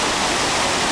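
Iguazu Falls in Argentina, a very large waterfall heard from extremely close, pours as a loud, unbroken roar of dense rushing water with wind, no pauses and no voices.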